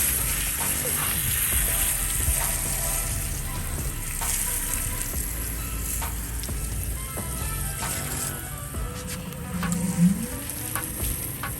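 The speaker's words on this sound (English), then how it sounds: "Let's go ahead and rinse this." A water spray rinsing a dirty car tire during auto detailing, heard as a steady, close, broadband hiss that runs unbroken for the whole stretch, with a brief surge near the end.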